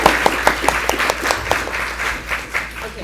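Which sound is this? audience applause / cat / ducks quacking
audience applause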